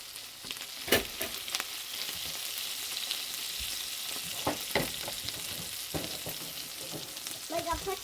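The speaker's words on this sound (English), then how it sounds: "Pan fry test." Rabbit bologna slices fry in a pan with a steady close sizzle, broken by several sharp pops and spatula scrapes and clatters throughout, heard on their own with no talking.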